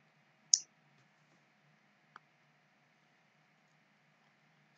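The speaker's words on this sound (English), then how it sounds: "So this is CDT and just click on it" A computer mouse clicks a few times in a quiet room, giving sharp, isolated clicks spaced seconds apart.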